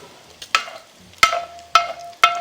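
A spoon stirs salt, paprika and pepper into a rabbit stew with bacon fat in a pot, giving four sharp metallic clinks and scrapes against the pot at uneven intervals, close and clear, with a faint ringing after each.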